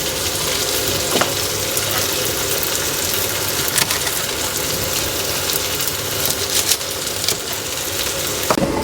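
Beef fries in a pan during lunch cooking, giving a steady, broadband sizzle that runs throughout with a few brief sharper crackles and stirring noises, close and fairly loud, with no talk.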